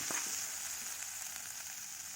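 Curry leaves and chili powder frying in hot oil for a tempering, a steady soft hiss with faint crackles throughout, heard on its own.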